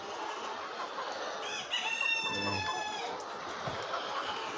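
Chickens cluck steadily and a rooster crows once in a large poultry farm at Mawna, with overhead fans adding a constant broadband hiss behind the close, busy flock noise.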